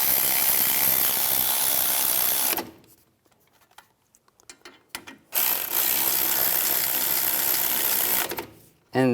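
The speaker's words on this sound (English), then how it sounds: "And then I'm going to torque these bolts to 53 foot-pounds." A ratchet runs in fast continuous whirring bursts while the brake caliper bolts on a Ford Explorer are driven in, loud and close, broken by a quiet gap with faint clicks.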